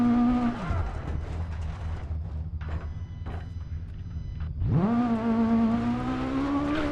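A rally car in the video game Dirt Rally runs on a flat rear tyre, its engine dropping off, then bumping and rattling along at low revs before revving back up loudly.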